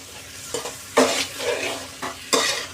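Mutton browning in oil with spices for Bhandari-style rassa: a steady close sizzle broken by several sharper stirring scrapes and spoon knocks against the pot at irregular intervals.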